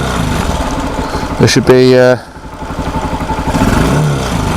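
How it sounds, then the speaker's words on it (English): A 125cc motorcycle engine idles with a steady clatter, then rises briefly in a quick rev and drops back to a lumpy idle, with someone talking over it. "If we give the bike a rev,"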